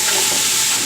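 Garlic paste hits a hot pan for a Sylheti beef paya dish, giving a loud, dense, continuous hissing sizzle up close for under a second.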